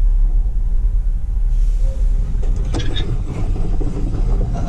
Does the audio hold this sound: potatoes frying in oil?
no